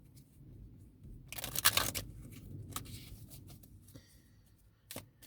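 Soft papery rustling and riffling of tarot cards being shuffled, with a louder burst of flicking in the middle and a few sharp snaps near the end.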